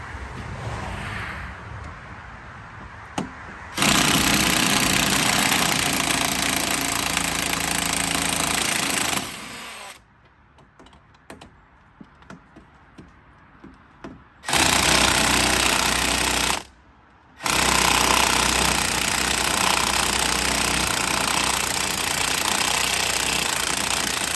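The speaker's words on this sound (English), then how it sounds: "These are the bolts that I'm removing here. Socket is 18." A power tool removes the front strut bolts with an 18 mm socket on a 2010 BMW 535i, making three long, loud, rattling hammering bursts separated by quieter gaps with small clanks.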